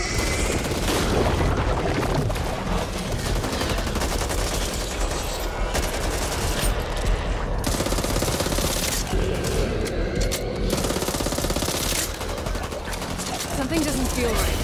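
Dense bursts of gunfire and booming blasts fill a hectic firefight in the Back 4 Blood video game, with voices talking over the continuous shooting.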